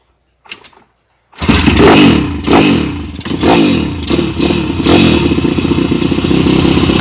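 A dirt bike 140 engine fires up after a short silence and revs hard, loud and close, with repeated throttle blips and a rough, clattering idle between them.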